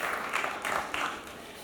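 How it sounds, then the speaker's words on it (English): Audience applause rings out in a conference hall at a cannabis expo talk, several bursts of clapping swelling and fading over a short span at moderate volume. "Please give him a warm round of applause"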